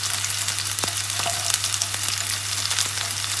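Chopped onion and a little garlic frying in hot oil in a pan, a dense steady sizzle with occasional scraping clicks of stirring, close and continuous with no talk.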